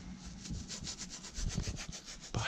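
Leather seat scrubbed with a fast-evaporating cleaner, giving a quick run of rhythmic rubbing strokes, steady and close, with no voices.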